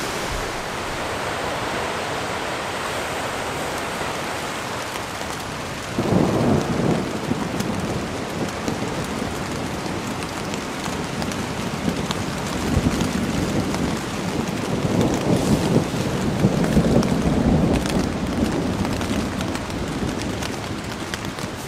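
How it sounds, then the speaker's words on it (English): Thunderstorm over a tent at Lake Nipigon: steady rain drums on the fabric while deep thunder rolls in twice, one burst early and a longer, heavier rumble later. "back in the tent with the thunderstorm, and there's a weird thrumming sound"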